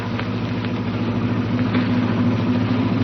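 An old jalopy car engine running nearby, a steady mid-pitched droning hum with a faint rhythmic chug, continuous and fairly loud.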